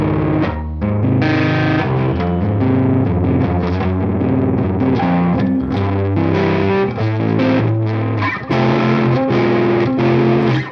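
An electric guitar tuned low plays chords through a Lovepedal Box of Awesome custom pedal, heavily distorted and sustained with a thick chorus-like texture, loud and close with no talking.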